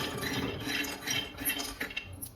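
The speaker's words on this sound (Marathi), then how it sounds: "बदाम छान भाजून घ्यायचे आहेत, 1 मिनिटभर तरी चांगले छान भाजून घ्यायचे आहेत" Almonds roasting in a pan while being stirred, giving a steady close scraping rustle with light clinks of a utensil against the metal and a few sharper knocks near the end.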